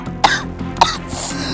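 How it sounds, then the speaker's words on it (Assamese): A man coughs twice in sharp, separate bursts, close and fairly loud, with a steady low hum and faint background noise in between. "দেউতা তুমি কাহিছা যে ইমান"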